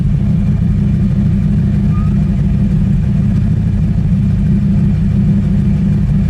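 A 1992 Chevrolet Camaro RS with a tuned port V8 idles steadily with a low, even rumble, heard up close and continuous throughout.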